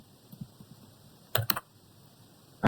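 A few scattered computer keyboard keystrokes, soft light taps followed by a louder pair of clicks and another at the end, close and sparse while entering router commands.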